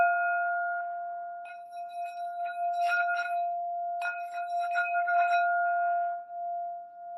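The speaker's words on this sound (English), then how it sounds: "I'm going to ring the bell." Bell rung to start a meditation practice, a single clear tone that rings steadily for several seconds with slow decay, while faint rustling and shifting sounds pass beneath it.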